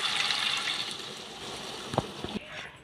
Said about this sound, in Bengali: আমি মাংসটা ভালো করে কষে নিয়েছি আর আমি জল দিয়ে দিচ্ছি